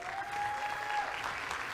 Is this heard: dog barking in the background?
no